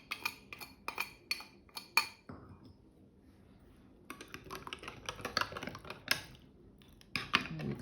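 A spoon clinks and scrapes against a bowl while olive oil and a green seasoning blend are mixed, giving bursts of rapid bright taps broken by a short quiet pause, with no speech.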